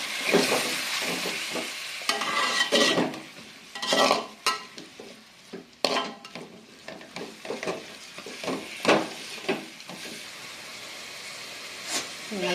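Tomatoes fry in a pan with curry leaves for a tomato curry, giving a steady hissing sizzle broken by repeated scraping stirs, close and lively.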